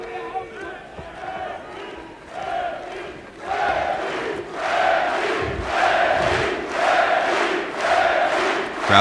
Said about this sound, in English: Crowd cheering, trying to get something started here for their world champion